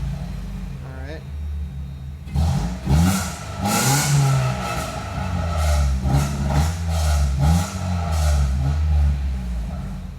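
A car engine cranks and catches, then revs up and down in uneven surges under a steady idle, with people talking nearby.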